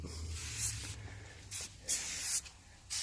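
Simple Green cleaner is sprayed onto a dirty bike chain and drivetrain in a series of sharp hissing spray bursts of varying length, close and loud, separated by brief pauses.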